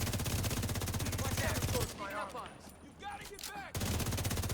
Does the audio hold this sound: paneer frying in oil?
no